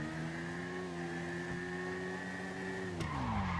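A car in GTA Online climbs through its gears, a steady engine drone rising in pitch and then dropping as it shifts up near the end, with a faint tire squeal running underneath.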